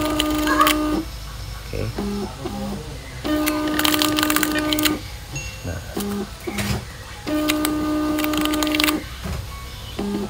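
A SATO CG408TT thermal label printer whirs and clicks in repeated bursts while printing a test label, several feeding cycles with brief mechanical pauses between, close and fairly loud; a voice speaks briefly.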